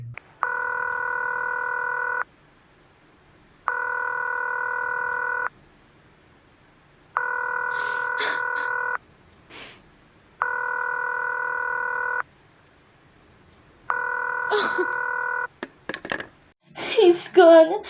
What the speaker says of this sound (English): Ringing Maryhill 40098.